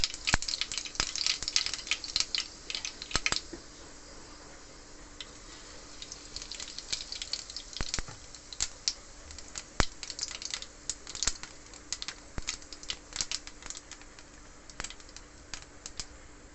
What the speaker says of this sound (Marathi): मोहरी तडतडल्यावरती